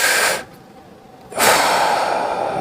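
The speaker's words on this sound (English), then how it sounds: "Breathing in and out." Heavy breathing during an upper back mobility exercise: a loud, rough exhale, a quiet pause, then another strong breath, close and with no talking.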